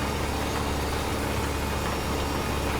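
Steady low rumble of a tractor engine in Farming Simulator 15, towing a seed drill on a farm field, droning continuously and evenly at moderate volume with no talk over it.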